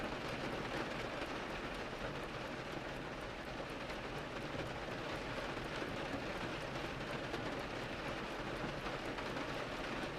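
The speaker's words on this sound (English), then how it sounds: "trickling down the storefront windows with a rushing, crackling sound" Rain streams and trickles down storefront windows in a steady, dense rushing hiss with a crackling texture, constant and close throughout with no voices.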